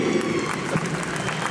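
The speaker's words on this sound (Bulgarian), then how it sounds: "Аплодисменти!" Brief burst of crowd applause at an indoor motocross hall, steady dense clapping filling the space for a moment.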